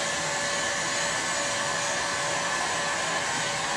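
A heat gun blows a steady, even rush of hot air while heating ClearPlex protective film during installation. The tone stays constant and close throughout, with no talk.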